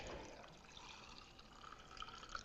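Wine is poured in small amounts into several glasses, a quiet liquid trickle and splash that is faint and close with no voices over it.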